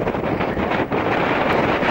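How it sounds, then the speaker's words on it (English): Strong wind on a mountain ski slope at White Corries, Glen Coe, buffeting the microphone in loud, continuous gusts that rise and dip. "the wind is blowing my arm"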